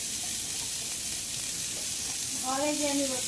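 Sliced onions sizzle in hot oil, a dense, even frying hiss close to the pan, while a voice talks briefly near the end.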